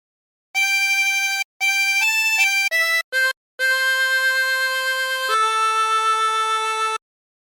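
A 24-hole tremolo harmonica plays a slow phrase of the hymn "What a Friend We Have in Jesus", sustained, wavering notes with brief breaks between the first few, then one long held chord.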